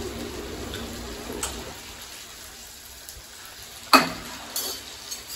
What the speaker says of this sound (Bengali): আর এখানে পেঁয়াজ ভাজা চলছে